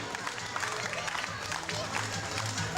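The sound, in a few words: audience applauding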